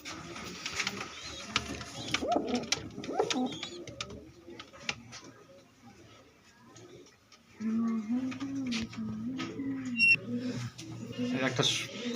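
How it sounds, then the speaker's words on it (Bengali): A Giribaz pigeon of full bloodline coos in soft, low repeated phrases, with steadier cooing in the second half, while other birds chirp faintly in the background and someone talks over it. "একটা সুন্দর একটা গিরিবাজ পায়রা দেখাচ্ছি আমি"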